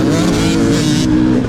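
Dirt bike engine at a hare scramble race, loud and close, droning at a steady, laboured pitch after an upshift into too high a gear, with other bikes roaring nearby.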